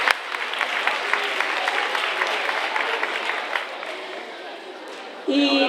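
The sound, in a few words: audience applause at school Halloween party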